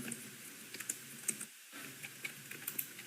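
Computer keyboard typing at a steady pace while entering a word into a spreadsheet macro, a run of quiet close clicks with a brief pause midway, no voice.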